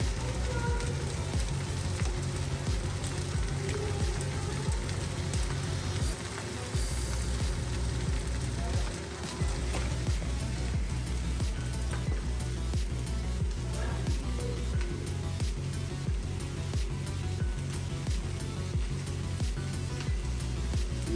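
Egg for chicken fried rice sizzles steadily in a hot pan as it is stirred, with a dense, crackling hiss and scraping taps throughout, and occasional talking over it.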